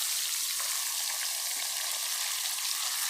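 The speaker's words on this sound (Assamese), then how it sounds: "কেৰাহী গৰম হৈছে, তাতে মই মাংসবোৰ দি দিছোঁ।" Chicken meat sizzles in a hot kadai as a steady, even hiss, moderately loud and close, with no voices.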